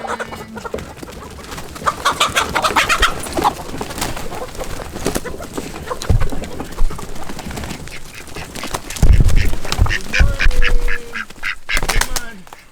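A crowd of ducks and chickens squawking and clucking close by, busy overlapping bird calls with a few louder bursts of quacking.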